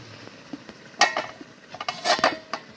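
Soybean masala being stir-fried in a pan: a spatula scrapes and clinks against the metal over a soft sizzle, with two sharper clusters of clanks and no talking.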